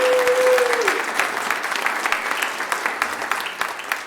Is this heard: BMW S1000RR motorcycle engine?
no